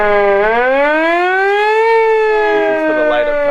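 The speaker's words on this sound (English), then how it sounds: "So this is the siren." A siren on an old police car used as a daily driver wails loud and close, sweeping up and then holding a steady tone. A brief voice sounds near the end.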